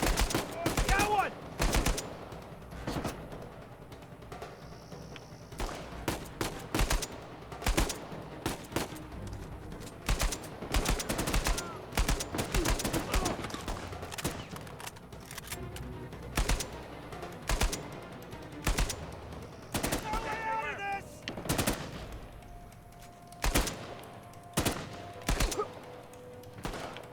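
Rifle fire cracks in quick, irregular shots and short bursts over a long stretch, some clustered into rapid volleys, with occasional talk between them.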